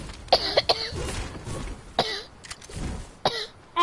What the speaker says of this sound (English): stop coughing so much